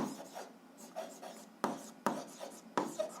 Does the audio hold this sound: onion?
no